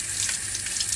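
Water running from a tap over a wristwatch, a steady hissing splash held close and loud for the whole moment, with no voices.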